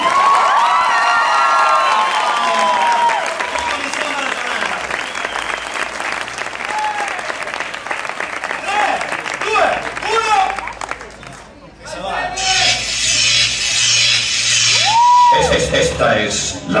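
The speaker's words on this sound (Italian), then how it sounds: "non ho sentito l'applauso io" Loud applause with cheering and whoops from a crowd at a dance club event, dense clapping sustained throughout, with shouts and voices mixed in and a brief dip before it swells again.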